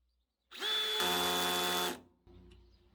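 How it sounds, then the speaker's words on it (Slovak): A DeWalt DCD790 18V XR compact cordless drill drives small screws into soft spruce wood, giving one loud, close, steady motor whir of about a second and a half that then cuts off, leaving faint background noise. "Začíname skrutkovaním malinkých skrutiek do mäkkého smrekového dreva."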